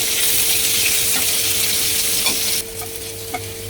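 Onions frying in hot oil for a Bengali snakehead (shol) fish dish, a steady loud sizzle with occasional stirring scrapes and clicks, the sizzle dropping slightly near the end.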